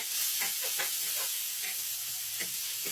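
Garlic and onion sauté in hot clarified butter, giving a steady, even sizzling hiss with faint crackles throughout, close and without speech.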